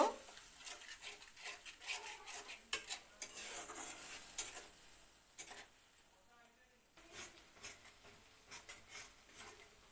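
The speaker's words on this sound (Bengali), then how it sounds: "মশলাটা ভালো করে কষানো হইব" A spice paste with salt being stirred and fried in a pan for a Bengali tomato rohu fish curry, with soft sizzling under repeated clinks and scrapes of a spatula against metal, and a voice talking.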